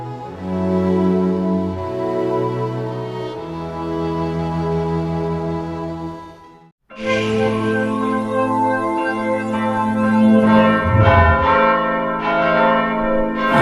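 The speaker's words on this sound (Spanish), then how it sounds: "sonaron las campanas como un signo también de alegría" Church bells ring loudly and continuously, sustained tones overlapping in changing patterns, with a brief pause before a fuller peal resumes.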